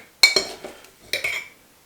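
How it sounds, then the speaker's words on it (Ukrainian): A spoon clinks and scrapes against a bowl while spooning in sourdough starter, two brief bursts, close up and quiet, with no voices. "І сюди кладемо 3-4 ложки самої закваски."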